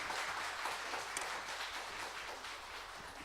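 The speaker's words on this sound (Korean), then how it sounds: "우리 박수로 목사님 환영하겠습니다" Quiet, distant congregation applause in a Korean church during a revival meeting, welcoming the pastor with a steady wash of clapping over a few seconds.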